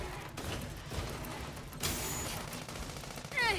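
Gunfire in the Sand Land video game: a few sharp reports over a dense rumbling game background, with a louder burst near the end, no talking.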